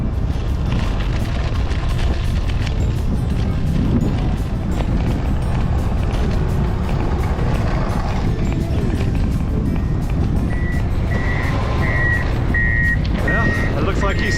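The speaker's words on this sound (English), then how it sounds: "There's a tractor." A tractor smooths out a gravel road while a bike rides past on the gravel, with a constant loud rumble of engine and wind and reversing beeps repeating near the end.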